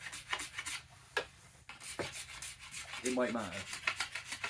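A card scraper rasps against a yew wood bow in short, close strokes of scraping and rubbing, with brief speech at the start.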